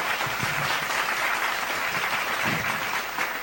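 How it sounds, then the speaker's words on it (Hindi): Sustained, dense audience applause at a Hindi kavi sammelan poetry gathering, loud and steady throughout with no voices over it. "एक बार तालियां जोरदार बता दीजिएगा।"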